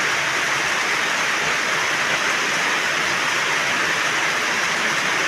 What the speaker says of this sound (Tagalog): Naman po sipag ng ulan.